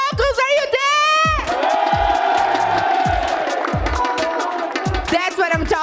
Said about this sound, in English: Team Falcons crowd are going crazy and they are chanting Falcons, Falcons.